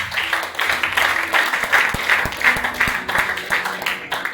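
A church congregation breaks into applause, a dense wash of clapping with a few sharper claps and faint background voices, steady and moderately loud throughout.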